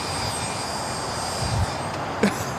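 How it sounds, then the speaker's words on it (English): An ABX Air converted Boeing 767 freighter rolls down the runway at Los Angeles International Airport, giving a steady, broad jet-engine roar heard from a distance, with a couple of brief knocks near the end. "got that ABX Air converted 767 now rolling down"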